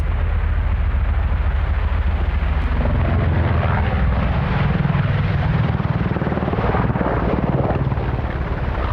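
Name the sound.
EH-101 Merlin anti-submarine helicopter flying at Farnborough airshow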